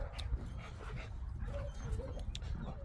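Big Shirley, an American Bully dog, gives soft, faint whimpers and small yips in a yard, with low rumbling background noise.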